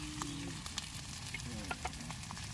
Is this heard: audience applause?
no